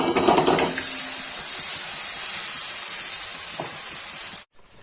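Onion, ginger, garlic and whole-spice paste frying with cumin seeds in hot oil produce a bright, continuous sizzle, crackling hardest at first, then holding steady before cutting off abruptly near the end.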